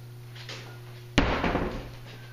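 A French door opening onto a private courtyard closes with a single sharp thud and rattle, followed by a short fading resonance over a steady low hum.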